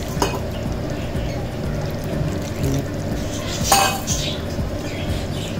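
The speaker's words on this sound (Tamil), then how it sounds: "இப்போ நம்ம இந்த தலைப்பால் எடுத்து வச்சுருக்கோம். அதை ஊற்றிடுவோம்." Thick first-press coconut milk poured into an elephant yam and dried fish gravy in a cooking pot, a steady close pour mixed with light clinks of utensils against the vessel.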